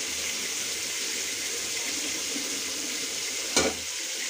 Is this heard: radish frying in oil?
yes